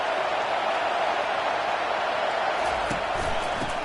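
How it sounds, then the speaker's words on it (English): A football stadium crowd at Ohio State vs Michigan roars in a steady, dense wall of noise throughout, loud and continuous with no breaks. "listen to the roar of this crowd"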